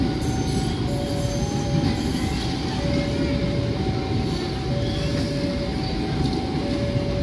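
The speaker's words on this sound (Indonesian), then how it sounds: "masih hangat ini momennya di mana Lok Vintage didinaskan di Bandung Raya" Vintage locomotive pulling a train on a railway in Greater Bandung, a loud continuous rolling rumble with squealing wheels and faint whining tones, passing close by.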